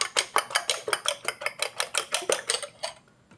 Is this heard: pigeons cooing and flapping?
no